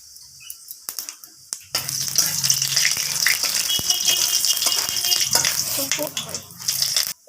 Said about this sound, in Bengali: তো ফোড়নটা একটু ভাজা ভাজা হতে থাক